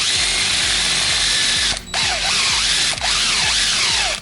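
A DeWalt cordless drill bores a hole, its motor whirring close and loud with rhythmic chattering pulses and brief dips in speed as the trigger is eased and squeezed again.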